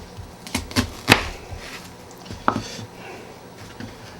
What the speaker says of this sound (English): just work on doing the chopping part here